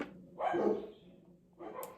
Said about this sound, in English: You're probably going to hear my dogs, they're barking.